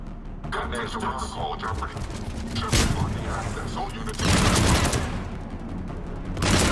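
Sci-fi gunfire in the video game Mass Effect, a battle against Cerberus: dense, continuous bursts of automatic fire and heavy shots, with louder volleys at intervals, under tense shouted dialogue.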